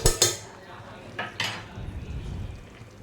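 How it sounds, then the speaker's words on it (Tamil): Slit green chilies being stirred in a pot for chickpea (channa) biryani, with a couple of sharp metal spoon clinks against the pot near the start and more scraping after one second, followed by a soft low sizzle. "இந்த பச்சை மிளகாலாம் போட்டு நல்லா மிக்ஸ் பண்ணிக்கிறேன்"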